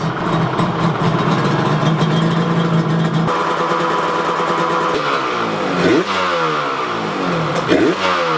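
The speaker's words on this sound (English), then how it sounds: "So now I'm going to hold the throttle open a little bit and adjust the throttle cables." A Yamaha RZ350 two-stroke engine idles and is blipped during a carburetor sync. It gives a loud, raspy, steady buzz with throttle held slightly open, then a few sharp revs that rise and fall near the end.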